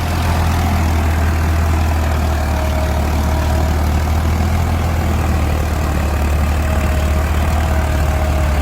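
A Farmtrac 60 tractor engine runs steadily and loudly at a tractor pulling competition against a Swaraj 855, a constant deep low rumble with a faint whine above, continuous and close throughout.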